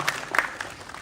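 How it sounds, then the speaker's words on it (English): A meetup audience in Hyderabad gives a brief round of applause after a demo: a short spatter of scattered, fairly soft claps. "Once again, one round of applause for both."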